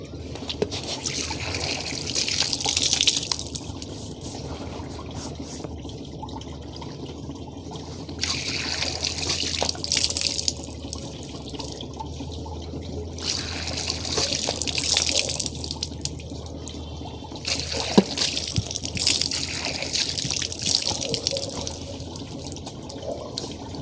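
Water from a tap runs and splashes in a sink while a face is washed for wudu, a continuous close trickle with surges of splashing as hands scoop and rinse, no talk.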